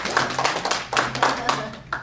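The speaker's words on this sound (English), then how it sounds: "By round of applause." A small audience at a therapy workshop claps, with bursts of hand claps forming an uneven, fairly loud rhythm and some talking mixed in.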